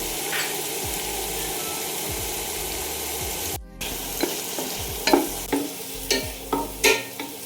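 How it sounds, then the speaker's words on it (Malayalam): Chopped tomato, crushed ginger and garlic, split green chillies and curry leaves fry in hot oil, giving a continuous close sizzle broken by a brief dropout and then a series of sharp scraping stirs against the pan. "ചോപ്പ് ചെയ്ത് വെച്ചിരിക്കുന്ന തക്കാളിയും കൂടി ഇട്ട് കൊടുക്കണം ഒപ്പം ഇഞ്ചി വെളുത്തുള്ളി ചതച്ച് വെച്ചിരിക്കുന്നത് പച്ചമുളക് പിളർന്ന് വെച്ചിരിക്കുന്നത് കറിവേപ്പില ഇതെല്ലാം കൂടി ഇട്ട് ഈ ഓയിലിൽ നന്നായിട്ട് ഫ്രൈ ചെയ്യുക"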